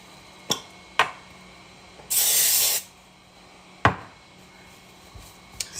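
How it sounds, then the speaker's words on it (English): A can of non-stick cooking spray lets out one steady hiss of under a second, greasing a baking pan, with sharp knocks and clicks before and after it in a quiet kitchen. "non-stick spray."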